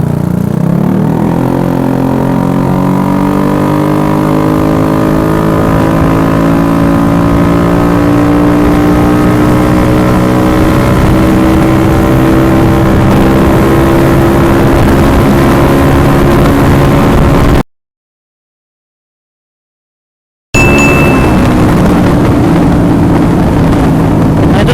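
A Yamaha Aerox scooter fitted with a Pro Liner carbon exhaust revs loud and close, the engine note climbing in a long sustained rev, breaking off into a short silence, then resuming.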